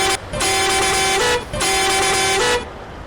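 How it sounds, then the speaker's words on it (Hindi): Ashok Leyland truck air horn in Euro Truck Simulator 2, two long loud blasts with a short break between, over steady engine hum. "ये हॉर्न काफ़ी शानदार लगा मुझे"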